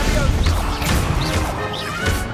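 A Stupefy spell hitting in the video game Hogwarts Legacy, sharp crashing impacts with magical whooshes over loud game effects and music, close and busy.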